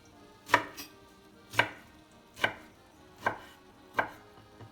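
A kitchen knife chops through cooked, cooled spinach for ohitashi on a cutting board, five evenly spaced sharp thuds close by with no talking.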